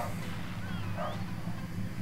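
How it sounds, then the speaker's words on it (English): Dogs barking in the Ape Escape 2 video game, faint yips and whimpers sitting low under a steady bed of game music and background noise. "those dogs are barking"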